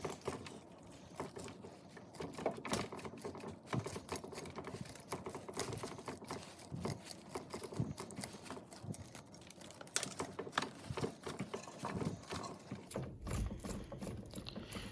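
Bonsai roots of a dwarf Alberta spruce being raked and loosened with a root hook, giving a dense, continuous scratchy rasping and clicking close up, with no talk.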